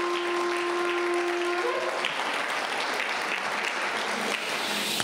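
A church congregation claps for several seconds, dense, continuous applause, with a held musical tone sounding under it at the start before fading.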